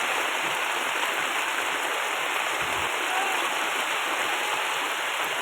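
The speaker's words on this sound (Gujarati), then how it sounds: "અત્યારે વરસાદ ચાલુ છે" Steady rain falling outdoors, a dense continuous hiss that stays even and fairly close throughout with no break, and no talk heard over it.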